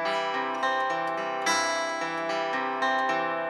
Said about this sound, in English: Whereas pattern number 6 is like this.